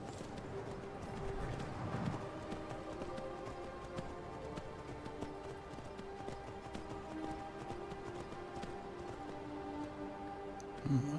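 Rhythmic clip-clop of horse hooves trotting at a steady pace in the game Skyrim, fairly quiet, over a low background hum and faint musical tones.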